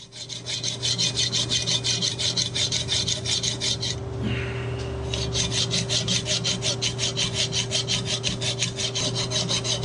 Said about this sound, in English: we'll just go old school and use the hacksaw to finish this off